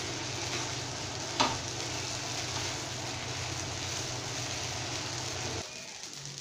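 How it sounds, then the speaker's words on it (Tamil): Leftover idli cubes roast in hot oil in a pan, giving a steady close sizzle and fry crackle with one brief louder pop near the start, cutting off to quiet just before the end. "பாருங்க இட்லி வந்து நல்லா இந்த மாதிரி லைட் பிரவுனிஷ் கலர்ல நல்லா ரோஸ்ட் ஆயிடுச்சு"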